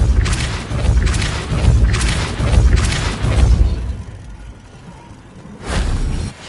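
Depulso spell cast in Hogwarts Legacy, a loud, dense run of repeated booming thuds and crashes over the first few seconds, then a lull and one more burst near the end.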